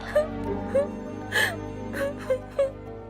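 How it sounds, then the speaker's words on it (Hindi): A girl cries in whimpering, gasping sobs, about five short tearful bursts close by with a musical background underneath. "अचानक उसको एक लड़की की रोने की आवाज सुनाई दी"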